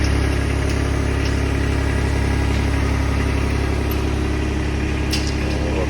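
Gas engine on a Woodland Mills HM130max sawmill running steadily at a constant idle, a dense low hum with a mechanical rattle that holds without a break throughout.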